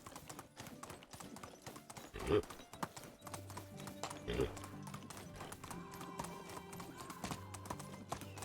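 Rapid horse hoofbeats clip-clop under game music and effects in Medieval Dynasty, with a couple of louder thuds and a horse whinny partway through.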